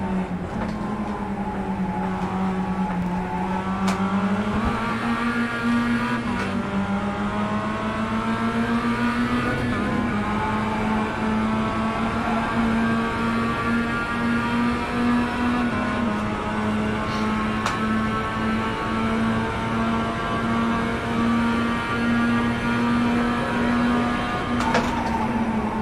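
Race car engine in iRacing holds a high, steady drone through a lap, pitch shifting with gear changes and throttle, loud and continuous with no talking.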